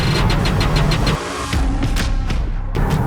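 A Hyundai Ioniq 6 electric car pulls away hard in sport mode, giving a steady close rumble of road and drivetrain noise that rises and shifts over a few seconds. No one speaks.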